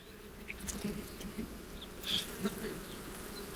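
Honeybees buzzing steadily at low level around hives in early spring in northern Ukraine, with individual insects droning close by now and then over a constant hum.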